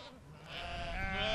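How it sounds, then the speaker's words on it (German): Sheep bleating outdoors at an open-air museum farm, where rare breeds such as the Zackel sheep and rough-wooled Pomeranian landrace are kept; a continuous, moderately distant bleat rises in the second half over steady ambient noise. "Die Schafe sind alle gesund, sauber, ordentlich, wie sich's gehört"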